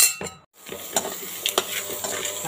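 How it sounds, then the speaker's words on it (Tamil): Ingredients for manathakkali kulambu are sautéed in a pan, with a soft sizzle and scattered clinks and scrapes of a stirring spoon against metal, close up and with no talk. "இதையும் நல்லா 1 நிமிஷம் வதக்கிக்கலாங்க."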